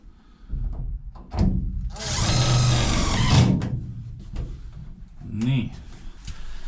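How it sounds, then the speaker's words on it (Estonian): A power drill drives a self-drilling screw inside a van under build, a loud whirring burst of about a second and a half, with voices and workshop handling noise before and after. "vana hea ise puurib"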